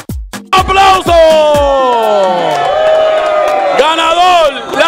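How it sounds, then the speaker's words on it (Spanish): A crowd cheers the winner of a pica pollo fried-chicken eating contest: a few sharp claps at first, then a long, loud sustained yell rising and falling over crowd noise. "¡Aplauso!"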